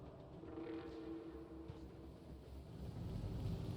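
A train runs in the Factorio Space Age video game, a low steady rumble that rolls on without a break and swells slightly toward the end, with no talk over it.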